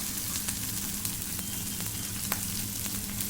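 Fish curry masala for pomfret tel jhal sizzles in a pan, a steady, dense frying hiss throughout with faint crackles, while water is added; the pour itself does not stand out from the sizzle.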